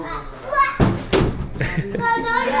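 Children play at an indoor playground beside a swimming facility, with thuds and bangs from play equipment and bursts of kids' voices over a steady busy background, and adults talking nearby.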